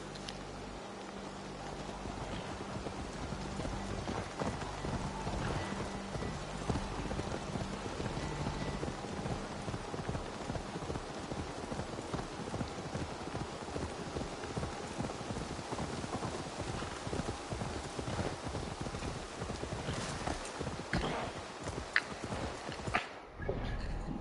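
Horse hooves clip-clop steadily in the game Assassin's Creed Valhalla, mixed into a constant rain-like wash of noise with no talking.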